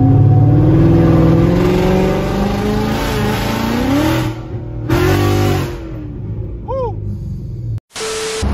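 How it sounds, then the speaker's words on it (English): Bolt-on 2020 Mustang GT accelerating hard on a test pull, a loud close engine roar climbing through revs with a brief gear-change dip, then the sound cutting off abruptly near the end. "Show you guys a little test pull real quick, how it sound."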